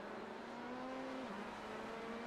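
Engine of an LMP2 race car running alongside during iRacing practice at Daytona, a steady droning whine with a slight pitch drop midway, continuous and moderately loud with no talk.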